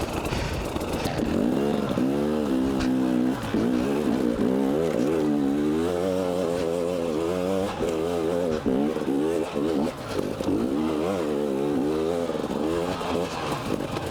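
A 2018 KTM 250 XC-W TPI two-stroke dirt bike being ridden over rough ground, its engine loud and close, revving up and falling back again and again in uneven surges.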